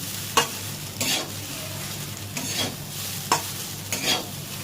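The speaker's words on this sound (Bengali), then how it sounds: "আপনার মশলাটাকে মাখিয়ে নিচ্ছি আমি" A spoon scraping through chicken chowmein with masala in a hot pan, four distinct stirring strokes over a steady low sizzle, no talking.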